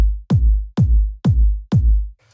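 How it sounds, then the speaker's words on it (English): Five fat 909-style kick drum hits for tech house land in an even rhythm, each a loud, booming thump with a long low tail, followed by a faint trailing sound at the end. "which is like a really fat 909 style kick that I've made"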